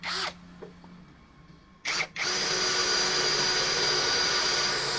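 HL BCID 813 13 mm cordless impact drill running on low mode, a brief whir at the start and another short burst near two seconds, then a steady loud continuous whine that fills the rest of the clip.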